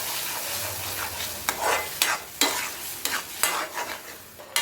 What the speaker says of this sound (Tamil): இந்த நெய்யிலேயே நல்லா வதங்கிச்சுன்னா இதில் உள்ள பச்சை ஸ்மெல்லாம் போயிடும்